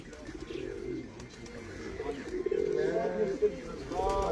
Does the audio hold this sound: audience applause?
no